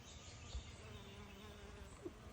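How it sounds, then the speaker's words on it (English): A honeybee buzzes faintly around lavender flowers outdoors, a soft, steady insect drone with slight rises as it moves about, under quiet background ambience. "I think that bee is liking that."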